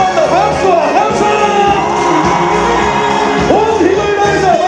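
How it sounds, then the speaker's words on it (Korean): A large festival crowd marking a city's one-millionth resident roars with cheers, shouts and whoops in a steady, loud wash that lasts the whole stretch, with scattered voices rising above it. "한 번 더 박수와 함성!"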